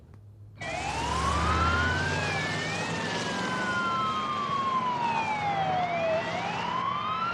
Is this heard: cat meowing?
no